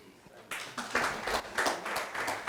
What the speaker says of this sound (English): They deserve a clap.